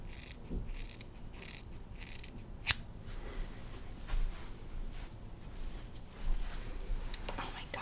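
Scissors snip through real shoulder-length hair in a close, quiet haircut, a run of soft crisp cuts early on followed by sparser snips, with faint whispery speech in the background.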